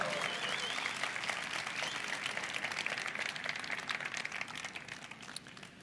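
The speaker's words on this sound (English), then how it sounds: "we will give you a round of applause" A crowd at a live smartphone launch event applauds, a dense, steady wash of many hands clapping that fills the room and tapers slightly toward the end.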